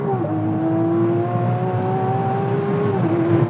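A McLaren 720S Spider drag races a Lamborghini Aventador, and a steady, loud engine whine holds a rising tone over road rumble for a few seconds, with no talk.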